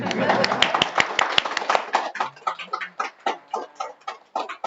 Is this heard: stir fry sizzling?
no